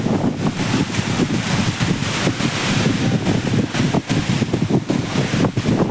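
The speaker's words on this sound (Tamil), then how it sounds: "என்னப்ப இந்த காத்து" Strong wind roars steadily into the microphone during a rainstorm in Salem, Tamil Nadu, a loud continuous rushing buffet with gusty surges and no pauses.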